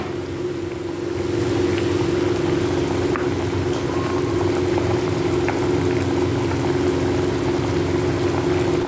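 A pot of mustard and poppy seed fish curry with bata fish bubbles at a steady simmer, a continuous even boil hiss with a low hum, close and alone with no talk.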